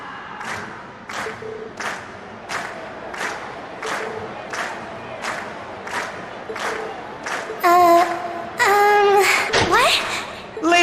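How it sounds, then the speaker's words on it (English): A crowd in the game Trails of Cold Steel cheers and shouts in repeated rhythmic bursts after a class performance, with a louder swell of voices near the end. "you've been a wonderful crowd. And we've heard your cheers loud and clear"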